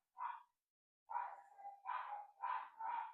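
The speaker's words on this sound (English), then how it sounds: "And that's all four of them barking." Four household dogs bark in a burst set off by a garage door opening: one short bark, a pause, then a run of four rapid barks at moderate distance.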